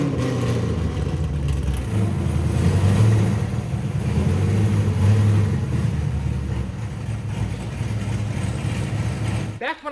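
A salvage Chevrolet Camaro SS with an LS V8 engine runs steadily at close range, a deep continuous rumble with slight swells in loudness, holding throughout.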